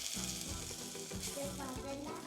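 German potato pancakes, flattened with a spatula, frying in oil in a pan: a dense, continuous crackling sizzle at moderate level with a faint low hum beneath.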